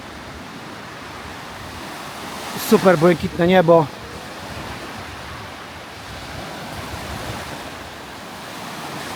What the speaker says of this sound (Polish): Troszeczkę wiaterku, jak słychać zapewne